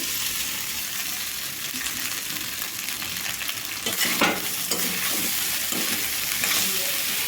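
Cooked rice being stirred into a hot chilli tempering in a pan, with a steady low sizzle and scraping stir strokes, a few louder clatters of the spoon against the pan midway, no talking.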